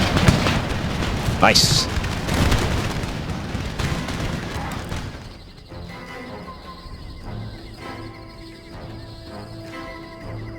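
Cannon artillery fire in Empire: Total War (Darthmod) thunders in heavy, overlapping booms during a battle, loud at first and then fading into a quieter musical bed, with a brief spoken word over it.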